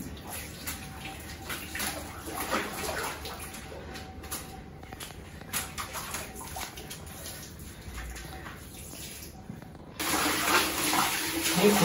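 Water sloshing and splashing as a heavy mink double-bed blanket is hand-washed in disinfectant water, with soft uneven swishes throughout and a louder, fuller rush of water near the end.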